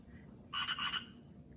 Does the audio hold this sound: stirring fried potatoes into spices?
no